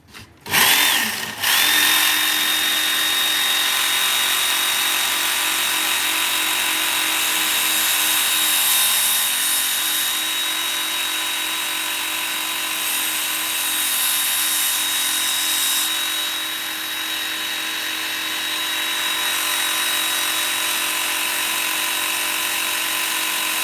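A power sharpener with a coarse 120 grit belt grinding a blade, a close, loud, steady high whine that starts abruptly and runs continuously with slight changes in pressure, without talk.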